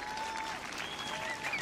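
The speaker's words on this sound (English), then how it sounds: "So please give a round of applause for Ariadne Trujillo Duran and her trio." An audience at an outdoor picnic concert applauding a music trio, a dense, even patter of clapping held throughout with a faint murmur of voices in the crowd.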